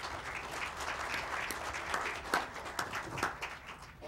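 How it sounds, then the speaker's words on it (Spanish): An audience applauds a speaker at an evening talk, a dense roomful of clapping held steady for a few seconds at moderate distance. "Pido para él un fuerte aplauso."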